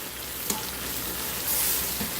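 Pot roast searing in a hot pan, a steady loud sizzle and crackle of frying meat with a brief stir or clink, no voices.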